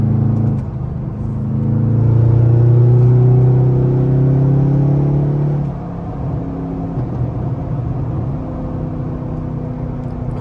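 Straight-piped Pontiac G8 GT engine, a loud deep droning rumble that swells and holds for several seconds, then drops to a lower steady idle-like growl; no voices.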